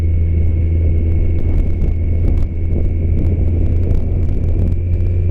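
A Can-Am three-wheel motorcycle rumbles steadily behind on a road tour of the Isle of Wight, its engine drone continuous under heavy wind buffeting, with no talking.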